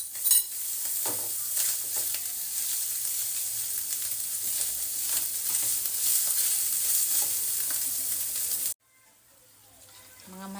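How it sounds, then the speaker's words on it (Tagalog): Ground meat sizzles steadily in a hot pan while being stirred, with occasional utensil scrapes, loud and close for most of the clip before dropping to quieter cooking sounds at the end. "Lulutuin muna natin ang ating giniling ng mabuti."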